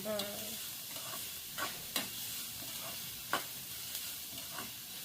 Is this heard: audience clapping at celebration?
no